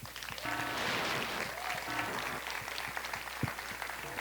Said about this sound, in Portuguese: Dá para dar uma salva de palmas para isso